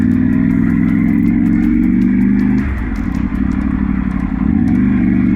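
Loud, continuous engine drone from a Triumph Tiger 900 Rally Pro motorcycle with luggage cases, ridden close between cars in traffic, heard from the rider's position, with the engine note dipping midway as the throttle eases before building again.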